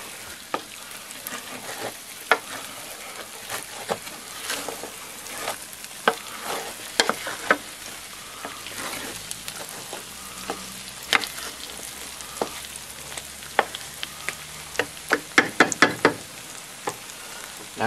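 Egg fried rice sizzles in hot oil in a pan, with a steady frying hiss under frequent sharp scrapes and knocks as a utensil stirs it.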